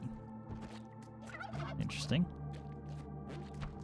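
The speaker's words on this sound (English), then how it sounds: "Turkey." A turkey gobbles in the video game Spelunky 2, a short warbling gobble in the middle of the clip over game background sounds, with a brief spoken word nearby.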